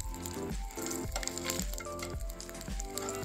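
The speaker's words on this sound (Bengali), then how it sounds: "আর এবার ফোড়নে দেব আমি গোটা জিরা, 2টো শুকনো লঙ্কা," Whole cumin seeds and two dried red chillies sizzle in hot mustard oil. The frying is dense, steady and continuous, close and fairly loud, with no talking.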